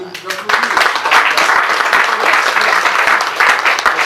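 Applause from a congregation at a Celestial Church of Christ parish service in France: a dense, steady wash of clapping rising after half a second and sustained to the end, with voices faintly mixed in.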